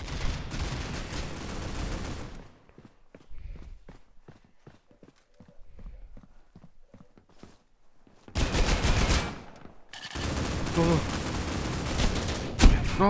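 Bursts of gunfire in the mobile shooter Critical Ops, a long dense volley at the start and two more loud stretches near the end, with quieter clicks and footsteps in between.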